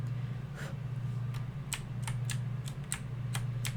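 Computer keyboard keys clatter in an irregular string of crisp clicks over a steady low hum while Undertale is played.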